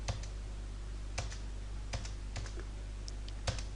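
Enter key pressed repeatedly on a computer keyboard while working in Tally accounting software, a string of sharp separate clicks at an uneven pace over a steady low hum, no voices.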